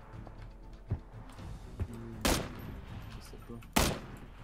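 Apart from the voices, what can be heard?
gunshots in video game PUBG Battlegrounds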